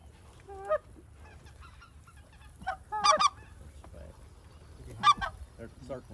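Specklebelly geese honk in loud bursts of overlapping calls, in three clusters, as the flock circles over water during a snowy waterfowl hunt. A steady low rumble of wind or water sits underneath.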